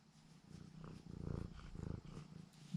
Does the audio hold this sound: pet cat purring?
yes